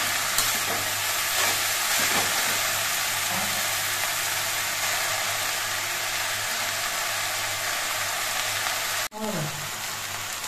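Jute leaves fry in oil with a loud, continuous, close sizzle while being stirred now and then, and one sharp knock comes near the end.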